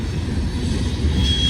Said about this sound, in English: I'm hearing train horns all over the place right now.